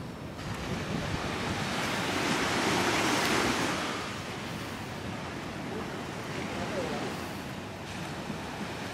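Surf rolls onto the beach at Playa d'en Bossa, Ibiza, in October: a steady, broad wash of waves mixed with wind buffeting the microphone, swelling briefly midway.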